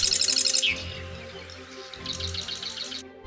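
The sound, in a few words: Californian marsh wren call and response song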